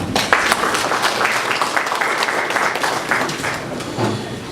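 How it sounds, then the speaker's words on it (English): An audience at a power-sector conference breaks into applause, a dense, steady clatter of many hands clapping close by for several seconds. "Ladies and gentlemen, please a round of applause for him."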